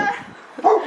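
A dog gives a short, loud bark or yip during playful roughhousing in a car, close by, with some vocal sounds around it.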